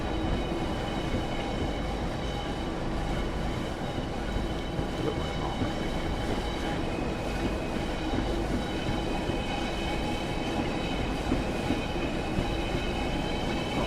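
In a train simulator game, a train made up of an older coach and Mark 3 coaches passes with a steady, loud rumble of rolling wheels and faint rhythmic clatter, continuous throughout.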